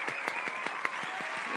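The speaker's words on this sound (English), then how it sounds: "You gotta clap for that." A small audience claps at a talk event, a quiet, even patter of hand claps repeating quickly at a steady pace for a brief moment.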